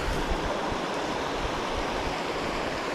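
River water rushing steadily at close range in a clear river prone to heavy flooding, a dense continuous wash with no pauses and no voices.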